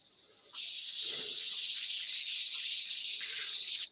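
A wooden bud vase shoulder being sanded with 80-grit sandpaper, a steady, bright hiss that starts abruptly and holds evenly for about three seconds before cutting off.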